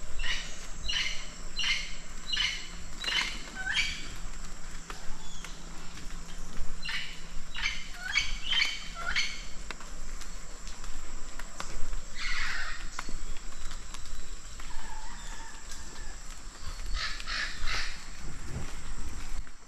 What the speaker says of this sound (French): Puis, on va un petit peu écouter les perroquets.